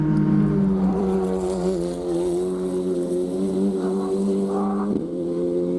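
FR Americas race car at Canadian Tire Motorsport Park crossing the finish line, a loud, steady engine roar with a sustained droning pitch that shifts slightly as it passes, close and dominant.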